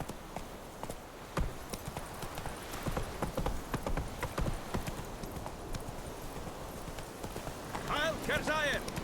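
In The Witcher 3 video game, a horse's hooves clop along in a brisk, continuous rhythm, with a brief whinny near the end and a player talking over the gameplay.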